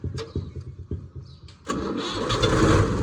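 A tractor engine cranks with several short starter churns, then catches and settles into a steady, fairly loud mid-pitched running rumble close by.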